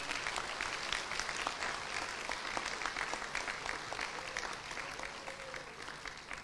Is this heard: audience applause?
yes